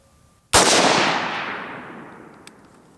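A single sharp rifle shot from a mud-fouled AK-47 or AR-15 during a reliability test, a loud close crack with a long ringing decay and a faint click near the end.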